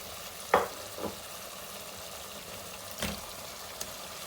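Tomatoes and green chillies sizzling in oil in a pan for aloo gobi, a constant frying hiss broken by a few sharp clatters of a spoon against the pan.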